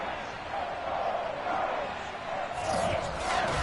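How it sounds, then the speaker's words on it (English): Stadium crowd noise before a Chicago Bears versus New York Giants NFL game in Madden 22 on PS5, a broad continuous roar that swells toward the end, with a voice talking over it. "This crowd is ready as their guys get set to match up"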